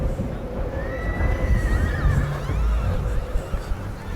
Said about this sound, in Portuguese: Será que os cavalos estão fugindo?